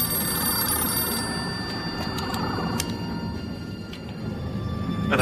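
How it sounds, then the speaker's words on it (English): A telephone bell rings steadily and loudly on its own, a bright continuous trill with no voices over it. "What am I supposed to do with a ringing phone?"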